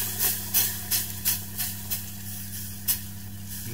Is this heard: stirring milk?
yes